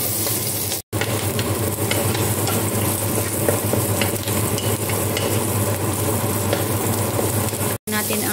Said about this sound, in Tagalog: At ilagay natin ang sibuyas. Hintayin natin siya mag-brown.